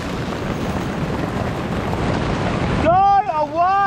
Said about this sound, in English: It's like just absolutely pissing down like this.